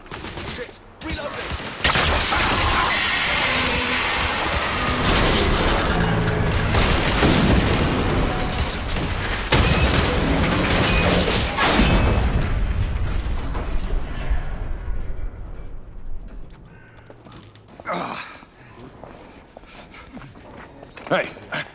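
Thermite blast in The Order 1886, a loud booming roar with gunfire and rumble sustained for about thirteen seconds, then decaying into quieter debris sounds.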